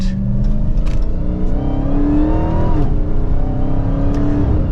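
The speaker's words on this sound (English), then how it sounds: "Healthy motor, it really gets up to speed well." A Dodge Charger SRT Hellcat Widebody with an 8-speed transmission accelerates, its engine note climbing steadily in pitch, loud and close, with a brief shift-like dip partway before rising again; no one speaks.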